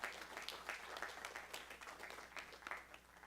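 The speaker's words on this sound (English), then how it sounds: "Let's give her a round of applause" Soft, fairly distant applause from a student government meeting audience, a modest crowd clapping steadily with gentle swells, quiet in level throughout.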